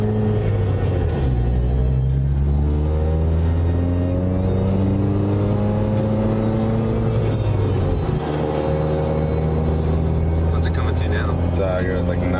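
Supercharged Chevy Cobalt SS pulling hard while driving, a loud steady engine drone with rising harmonics as it accelerates, a brief dip mid-run, then climbing again from inside the car.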